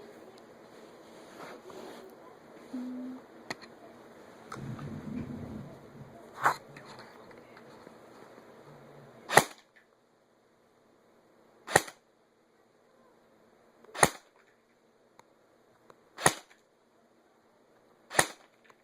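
Airsoft gun firing .20 BBs in a repair shop, sharp single shots after some handling noise: a handful of loud, crisp cracks spaced about two to three seconds apart against near silence.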